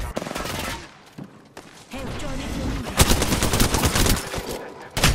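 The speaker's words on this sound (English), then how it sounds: "They spotted me. I'm taking shots. Opening fire. Reloading." Rapid gunfire crackles in bursts during a video game, broken by a short pause and mechanical reloading clicks, then another loud burst of shots over a busy game soundscape.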